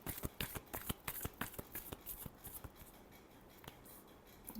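Tarot cards are riffled in a fast run of crisp, close flicks and snaps that thin out toward the end, with no voice over them.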